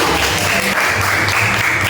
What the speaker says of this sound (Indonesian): beri tepuk tangan buat kelompok putri